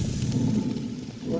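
Boneless pork ribs sizzle steadily on a Green Mountain Grill pellet grill as they are flipped after about an hour of cooking, a close, constant frying hiss with no talk over it.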